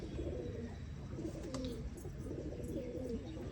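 Champion pigeons coo softly in low, repeated throaty murmurs, faint and somewhat distant over a quiet background.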